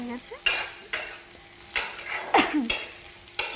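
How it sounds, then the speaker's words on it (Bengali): A utensil scrapes and clatters against a pan as sliced potatoes and okra fry, with several sharp, close stirring strokes at irregular intervals over a soft sizzle, no voices. "তো ভালো করে নাড়িয়ে নিচ্ছি।"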